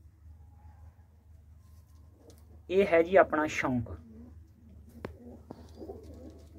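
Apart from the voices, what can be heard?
pigeons cooing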